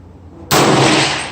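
One sharp, loud rifle shot from a 300 Blackout upper firing GMX ammunition at a 100-yard range, followed by a short fading boom.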